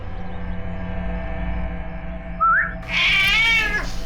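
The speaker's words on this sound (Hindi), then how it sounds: "ये है वो बिल्ली जो खूनी को पहचानती है।" A cat meows twice, a short rising mew and then a longer, louder wavering cry, standing out over a steady low background hum indoors.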